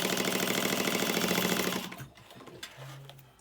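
A sewing machine runs a continuous stitch on fabric, loud and steady for nearly two seconds before stopping, followed by faint handling clicks and a brief low hum.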